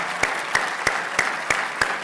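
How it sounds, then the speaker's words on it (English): Staff of the Urban League are applauded at an annual dinner: six sharp, evenly spaced claps ring out in a steady rhythm over a soft room hum. "I want the staff of the Urban League to please stand and receive a thunderous round of applause"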